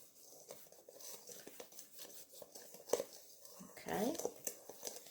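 Spoon scraping and clinking against a mixing bowl as sugar is stirred into fritter batter, a steady run of light clicks with a louder clatter near the end, under occasional talk.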